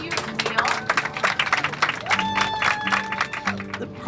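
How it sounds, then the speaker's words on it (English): Group applause with scattered clapping and cheering mixed with background music and voices, lively and uneven over a few seconds. "Give yourself a round of applause."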